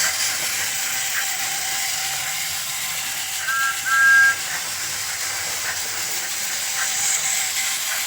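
A TOMY Steam Along Thomas toy train and a regular motorized Thomas train whir and click along a track, a steady mechanical rattle with a faint hiss and no voices.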